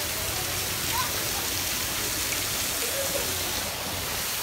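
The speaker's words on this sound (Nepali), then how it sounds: "माथिबाट पानी आउनु रहेछ" Water pouring down from above at an outdoor spot where children play, a steady broadband hiss like heavy rain or a small waterfall, continuous and fairly close with no break.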